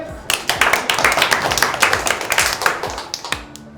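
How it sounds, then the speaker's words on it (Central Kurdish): Children in a school classroom give a short round of applause, dense rapid clapping close by for about three seconds before it stops abruptly. "زۆر سپاس چەپڵەیەک"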